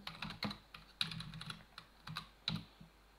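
Typing on an English-layout computer keyboard, with quiet, close key clicks in irregular bursts and a few louder strokes, no speech.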